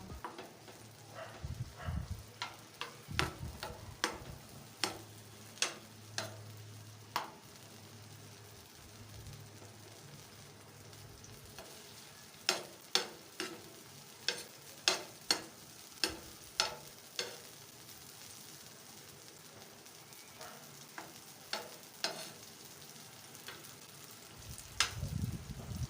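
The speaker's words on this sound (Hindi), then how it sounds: "टमाटर को बिल्कुल स्लो आंच पे पकाना है ताकि बहुत जल्दी सॉफ्ट हो जाए।" Tomatoes cooking slowly in a pan over a low flame for a quick breakfast dish: a soft, steady sizzle runs throughout, broken by clusters of sharp clicks and scrapes from stirring, with a low hum in places.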